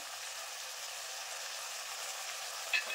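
Ground cumin, coriander and turmeric fry in hot oil for a Bengali pabda fish curry, giving a steady, even hiss of sizzling throughout, with a tiny clink near the end.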